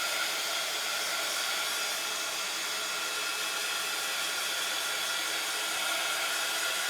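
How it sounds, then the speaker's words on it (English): A heat gun blows steadily on an MDF mixed media journal cover, a loud continuous hiss of rushing air held close and unbroken throughout. "let me grab my heat gun, if I can reach over."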